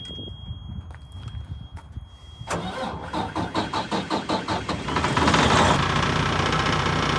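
Heavy hauler truck engine being started: a steady whine, then the starter cranks in rapid rhythmic pulses. The engine catches and settles into a loud, rough idle close by.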